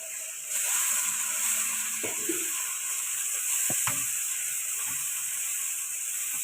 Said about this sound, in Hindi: 1/2 चम्मच हमने हल्दी का डाल देना है और इनको हमने अच्छी तरह से भून लेना है।